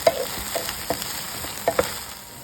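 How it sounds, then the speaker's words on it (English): Okra and onions frying in a pan with a steady sizzle, while a utensil stirs them in a few light, irregular scraping strokes close by. "Now we'll give it a good mix."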